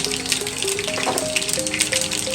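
Cumin seeds sizzle in hot oil as a tempering for handvo, a dense, steady, close crackle running throughout with faint tonal undertones.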